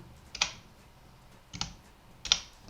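Three separate keypresses on a computer keyboard while entering data in an Excel spreadsheet, each a short, close, crisp click spaced about a second apart over a faint background.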